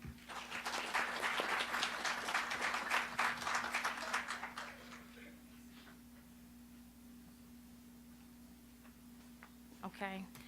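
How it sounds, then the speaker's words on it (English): Audience clapping in a warm round of applause at a diabetes education class, a dense burst of many hands for about five seconds before fading into a quiet room with a steady hum. "So I really would like for y'all to give a warm round of applause for Miss Alicia Teague."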